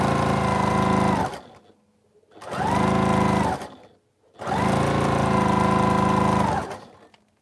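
A sewing machine stitches a quilt seam in three long running bursts, a steady close motor whir with short pauses between, no talking.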